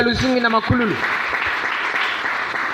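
Church congregation applauding and cheering in praise, a steady broadband clatter of many hands sustained throughout, with a voice speaking loudly over the start.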